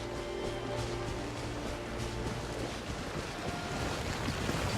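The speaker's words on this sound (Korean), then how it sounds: "바람이 불고 있어." Wind blows through an outdoor scene in the Genshin Impact video game, a steady soft rushing noise with surf-like swells, fairly quiet and continuous with no voices.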